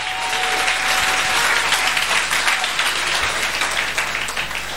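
A church congregation bursts into sustained applause during a Sunday service, a dense, steady wash of many hands clapping at close range with no pauses.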